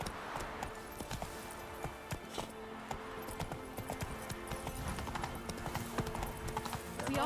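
Roach, the horse from The Witcher 3, gallops in a steady drumming run of hoofbeats, with faint clinks of tack riding along throughout.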